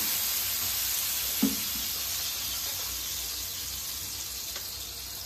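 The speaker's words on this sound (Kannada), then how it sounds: "ಪ್ಯಾನ್ ಬಿಸಿಯಾಗಿರ್ತೀನಿ ನೋಡಿ, ಸ್ವಲ್ಪ ನೀರು ಹಾಕೋಣ" A steady, close hiss of water sizzling on a hot dosa pan, with one brief sharper crackle early on.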